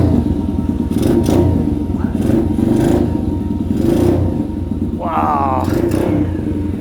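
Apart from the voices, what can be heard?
Hawk 125 pit bike engine running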